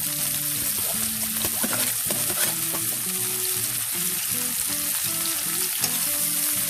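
Sliced bitter gourd (ampalaya) frying in a pan: a steady, loud, close sizzle runs throughout with stirring clatter and a few scrapes, and no talk.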